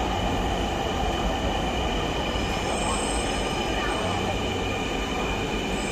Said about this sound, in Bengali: চলে আসছে মেট্রো লাইন।